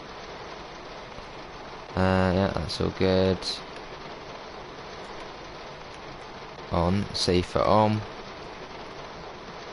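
Rain in the train simulator Train Sim World 2 hisses as a steady, broadband wash through the whole stretch, with someone talking in two short bursts over it.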